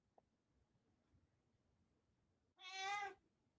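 One short, clear meow from a house cat rings out close by near the end, after a stretch of near silence with a faint click at the start.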